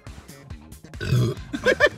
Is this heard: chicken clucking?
no